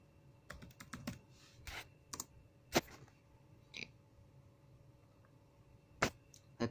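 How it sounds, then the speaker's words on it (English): A password is typed on a computer keyboard: soft, irregular clicks and taps, a few sharper keystrokes among them, faint and close, against a quiet room. "Okay, so type my password."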